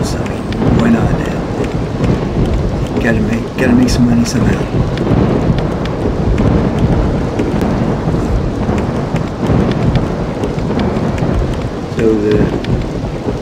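Steady heavy rain with rumbling thunder in the theme-park game RollerCoaster Tycoon 3, a dense continuous wash of downpour with low rolls of thunder, while someone talks over it throughout.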